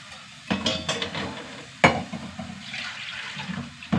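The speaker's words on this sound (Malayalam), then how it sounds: "ഇനി അതിലേക്ക് പുളിവെള്ളം ഒഴിച്ച് കൊടുക്കാം കേട്ടോ" Tamarind water poured into a pan of cooking curry gives a close, brief watery splash and hiss with a couple of clatters, followed by a softer bubbling sizzle.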